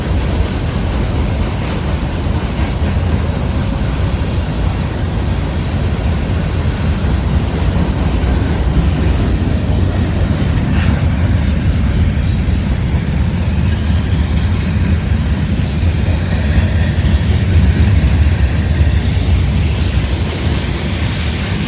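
A long CSX freight train rolls past on the rails at a busy junction, a loud, steady rumble of wheels and cars holding without a break from start to finish.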